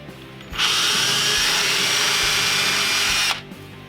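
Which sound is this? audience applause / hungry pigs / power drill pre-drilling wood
power drill pre-drilling wood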